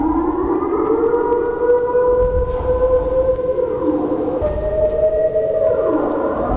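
Siren Head's siren call in the horror game Siren Head Field, a loud, sustained wailing tone that slowly rises and falls in pitch, droning steadily throughout with no talking.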